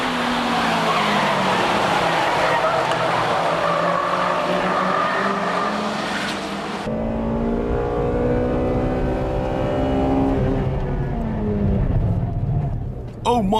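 A Honda Integra Type R with its VTEC engine racing hard on a circuit against 2-liter turbo cars, engine note rising and falling through gear changes as it dives into a sharp corner, loud and close throughout.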